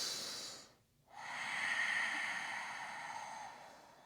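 Long slow exhale during a yoga breathing exercise: one steady, airy breath that follows a brief pause and fades gently, close and soft.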